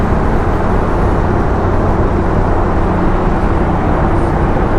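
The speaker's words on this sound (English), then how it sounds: "Haven't actually been through a tunnel with the exhaust fully open before." Ducati DesertX motorcycle with a fully open exhaust riding through a road tunnel, a loud, steady engine drone and roar echoing continuously with no pauses.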